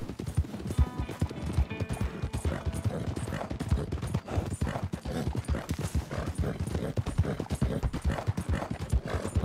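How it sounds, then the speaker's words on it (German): Horse hoofbeats from the video game Red Dead Redemption 2 make a steady, rhythmic clip-clop gallop, close and continuous, with a faint whinny. "Oh, ein gutes Pferd."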